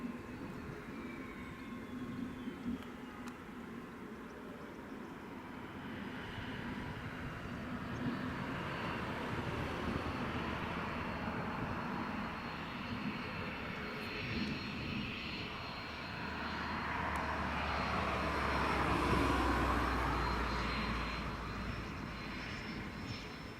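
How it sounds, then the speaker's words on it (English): Jet2 airliner on final approach to Leeds Bradford Airport, a distant engine drone swelling gradually louder toward the end, heard alone without talk. "Jet2 on final approach as well."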